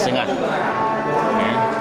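Simmental breeding cattle at a livestock sale, one close, drawn-out low moo lasting almost two seconds.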